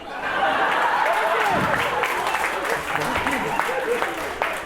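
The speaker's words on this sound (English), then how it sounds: "Please give me applause if you ever said this as a quantum of time" Audience applause fills a stand-up comedy show, steady and fairly loud throughout, with scattered laughter and chuckles mixed into the clapping.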